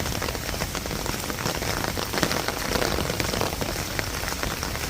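Heavy rain pours down at an outdoor protest at Jantar Mantar, a dense, close, unbroken hiss of drops hammering hard surfaces throughout, with no voices.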